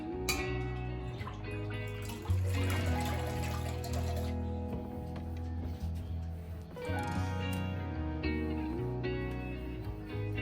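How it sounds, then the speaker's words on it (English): Clean water running and splashing while painted wooden nightstands are rinsed, a steady close wash of water under a sustained, loud tonal hum, with no talking. "Now I'm just going to rinse these off with clean, clear water."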